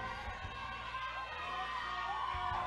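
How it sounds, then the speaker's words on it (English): A crowd at the Miss Jamaica World beauty pageant coronation cheers and whoops continuously, a broad, steady roar of many voices with scattered shouts rising above it throughout. "We hear the crowd going."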